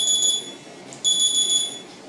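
A find-phone alarm set off from a DT19 smartwatch rings out as loud, piercing electronic beeps in two repeated bursts, close and with no voice over it.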